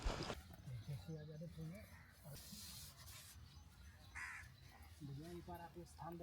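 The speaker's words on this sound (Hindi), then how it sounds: "आप जो पक्षियों की चहचहाट है ना," Crows caw and birds chirp in a quiet, secluded deep forest near a hut, with several separate calls rising over a low background while someone talks.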